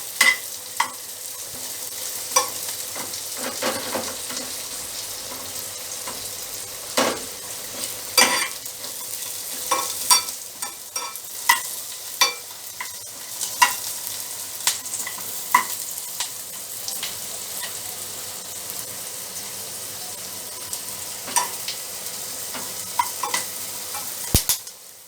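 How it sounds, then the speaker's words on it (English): Chopped onions fry and caramelize in a pan for a chicken do pyaza, with a steady sizzle and frequent sharp scrapes and clinks of a spoon stirring against the metal, close and fairly loud, no talk. "You can see that onion is getting a little bit golden brown,"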